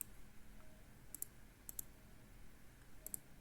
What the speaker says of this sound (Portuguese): clica no primeiro, depois clica no segundo e assim por diante